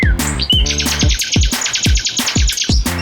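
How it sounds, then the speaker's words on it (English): Nightingale song in a lively run of sharp, repeated chirps and trills, close and loud, pulsing in quick bursts for about three seconds with no talking. "N is for nightingale. Tweet, tweet."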